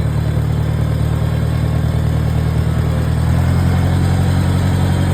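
A Farmall 140 farm tractor engine runs steadily with a rumble at close range, its low drone unchanging throughout, with no voices.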